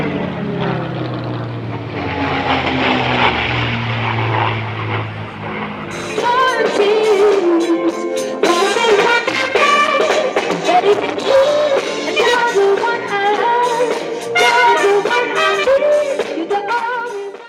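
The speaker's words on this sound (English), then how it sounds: "Spitfires are coming soon." Spitfire fighter planes passing over a lake airshow, with a loud piston-engine propeller drone that builds and holds, joined partway through by a rougher, busier roar as more aircraft sweep by.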